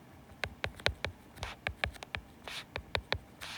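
Pen strokes writing out algebra steps on paper, a quiet series of short, sharp taps and scratches in an uneven rhythm, close up and alone.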